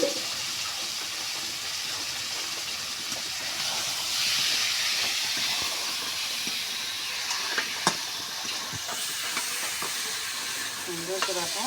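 Chicken meat frying in hot oil in a pan with spices, giving a steady close hiss and sizzle throughout with occasional clinks of a utensil, and no talking.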